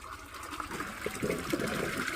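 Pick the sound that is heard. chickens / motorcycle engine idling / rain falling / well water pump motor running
well water pump motor running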